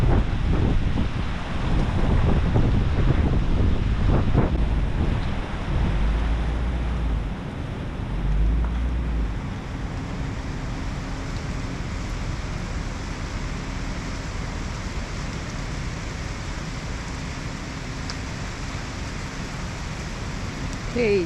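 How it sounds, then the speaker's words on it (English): A storm blows in on the coast of Bahia's Marau Peninsula, with wind buffeting the microphone over a roar of rain and surf that is heaviest at the start and then settles into a steady wash. "Now the storm is coming, so we're going to get out of here."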